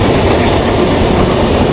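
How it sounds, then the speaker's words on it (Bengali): The Madhumati Express passenger train runs at high speed toward Rajshahi in Bangladesh, making a loud, steady roar of wheels and carriages with a dense rumble and no pauses. "মধুমতি এক্সপ্রেস আমাদের ট্রেন এখন দুর্দান্ত গতিতে চলছে রাজশাহীর উদ্দেশ্যে।"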